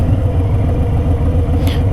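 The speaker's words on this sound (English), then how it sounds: "I gotta turn off the engine" A motorcycle engine idles steadily during a Power Vision autotune session, a close, continuous low rumble with no talking.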